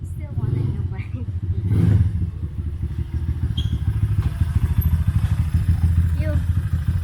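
A modified Rusi Diablo motorcycle engine idles loud and close with a steady, fast throbbing pulse and a brief rev early on, while people talk over it.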